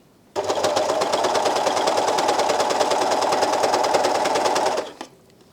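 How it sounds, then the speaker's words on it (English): An Elna Elina 792D overlocker runs at speed, stitching and trimming fabric at the edge, a loud, steady mechanical whir that starts abruptly and holds for about four and a half seconds before stopping, close by, with no talk. "As I'm sewing along, I am cutting off a small amount of fabric at the side of what I'm doing"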